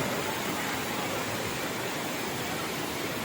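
A steady, dense rush of falling water, even and unbroken, like a waterfall heard from nearby with no voices, at Bantimurung waterfall in Indonesia, with natural sounds of insects around.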